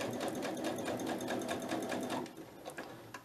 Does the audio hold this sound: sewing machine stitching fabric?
yes